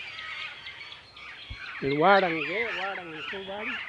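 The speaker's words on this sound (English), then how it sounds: "Sometimes people might even refer to the galah as qeets, because of their noise." Galah parrot giving harsh, wavering screeching calls near a lake, loud and close, a few rising-and-falling squawks starting partway through over quiet background.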